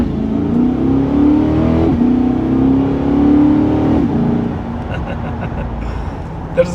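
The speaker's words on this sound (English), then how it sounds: "you do hear that beautiful V8 behind you" A 2023 Corvette C8's V8 engine accelerating from inside the car, a steady rising growl that climbs through a gear, then eases to a lower drone with a small click near the end.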